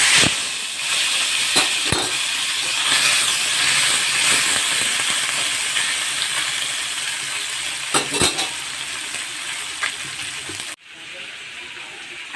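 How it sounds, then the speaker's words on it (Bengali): Parshe and bata fish fry in hot oil in a wok, producing a loud, steady sizzle and hiss with a few sharp crackles and clatters along the way before the sound drops off abruptly near the end. "কড়াইতে তেল দিয়ে দিয়েছি, তেল গরম হয়ে গেছে। এবারে মাছগুলো দিয়ে দেবো।"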